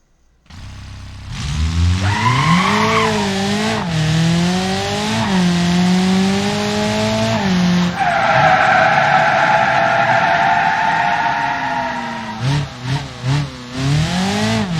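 A car in the driving game BeamNG revs in rising and falling sweeps, then breaks into a loud, sustained tire squeal as it skids, ending in a few sharp choppy bursts.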